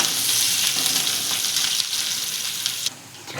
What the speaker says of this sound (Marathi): आता आपण चांगला कांदा तळून घेऊ.